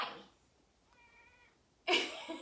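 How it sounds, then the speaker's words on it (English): A single soft, drawn-out meow from a cat, framed by louder rustling noises just before and after. "Can you guys hear him? He's meowing."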